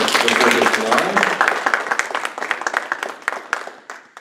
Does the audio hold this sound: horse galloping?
no